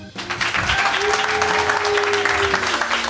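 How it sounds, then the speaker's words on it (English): A round of applause closes a podcast's live taping, the clapping steady and fairly loud throughout with a faint sustained tone running under it. "One more round of applause."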